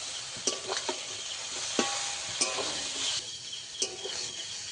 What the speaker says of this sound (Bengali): মশলাটা ভালো করে একটু সয়াবিনের আলুর মধ্যে ভালো করে একটু কষিয়ে নেব